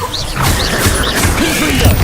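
Descendo spell impacts land in Hogwarts Legacy as a loud, dense crashing rumble with sweeping magical whooshes and mechanical clanks, steady and close throughout.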